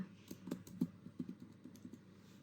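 Fingers type an invoice number on a computer keyboard, a short burst of light rapid key clicks, close and quiet, with no talking.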